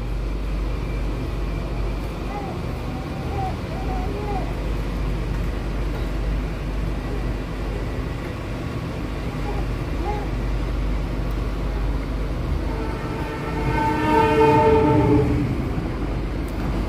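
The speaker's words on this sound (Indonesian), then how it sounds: "Kereta api Ranggajati dari stasiun Cirebon tujuan akhir stasiun Jember melintas langsung stasiun Wates." The Ranggajati passenger train from Cirebon to Jember passes straight through Wates station on double track, a steady rumble of wheels building as it nears, with a loud horn blast near the end.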